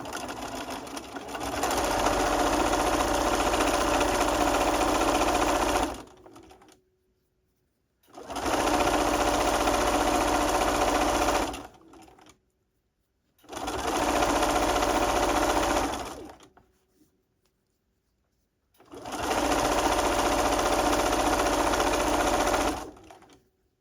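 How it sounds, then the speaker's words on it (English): A sewing machine stitches around a pocket in four steady, loud bursts of rapid whirring, each several seconds long and separated by short pauses. "I'm going to sew around the pocket"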